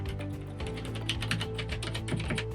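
Rapid, steady typing on the mechanical keyboard of an early Commodore Amiga 500 computer, with crisp, close, clicky keystrokes running continuously without speech.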